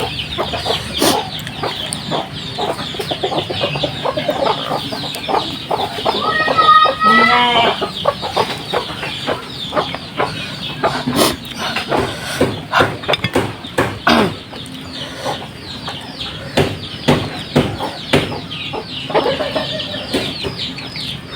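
Chickens cluck close by, a busy flock giving repeated short clucks and squawks with one louder drawn-out call in the middle.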